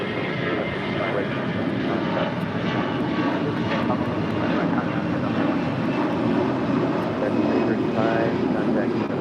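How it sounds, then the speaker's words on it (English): American Airlines Airbus A321 departing LAX for Phoenix, a steady, loud broadband jet roar that holds constant throughout, with faint voices underneath. "That was American Airlines 335 departing to Phoenix on an A321."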